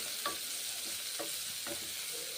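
Steady sizzle of bitter gourd frying in a pan, with a few soft stirring scrapes breaking through the constant hiss.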